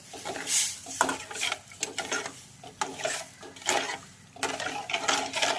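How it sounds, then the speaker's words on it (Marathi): Sugar is stirred into boiling water in a pan while making sheera, giving soft scraping and clinking strokes of a spoon against the metal in an uneven, repeated rhythm at close range. "यामध्ये घालायची आपल्याला साखर आणि ही छान अशी विरगळून घ्यायची आहे"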